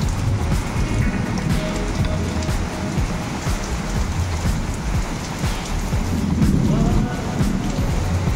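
Continuous late-night rain pours down, a dense even patter on surfaces with a low rumbling undertone, steady and close for the whole stretch, no talking.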